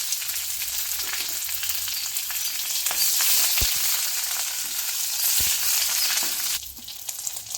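Mustard seeds and curry leaves fry in coconut oil for a savoury rice-flake snack mix, giving a steady close sizzle with scattered sharp pops and crackles, quieting slightly near the end.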